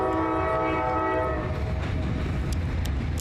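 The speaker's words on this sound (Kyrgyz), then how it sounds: "Кытайдан Кыргызстанга алгачкы контейнердик поезд келди." A container freight train arriving from China to Kyrgyzstan sounds a long, loud horn over the heavy rumble of rolling wagons, followed by continued clattering rumble.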